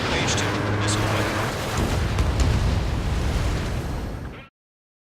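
A missile blast destroying an anti-air radar vehicle in Ace Combat 7, a loud rumbling explosion that swells, rolls on for several seconds and cuts off abruptly.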